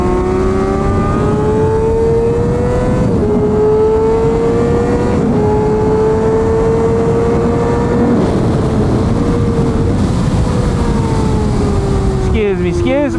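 A Kawasaki ZX6R 600cc sport motorcycle howls steadily at high revs on a racetrack, its engine pitch climbing and dipping through shifts, loud and close throughout, with other bikes, an R1 and a Ducati, racing nearby.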